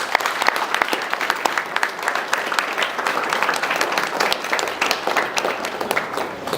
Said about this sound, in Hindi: मैं चाहूँगा सभी हम इन बच्चों का जोरदार तालियों से अभिवादन करें।